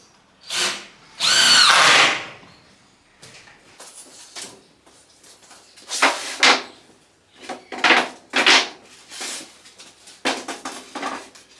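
A power drill drives screws into a wooden garden gate. Its motor whirs close and loud in a long burst, followed by a series of shorter spurts with quiet pauses between them.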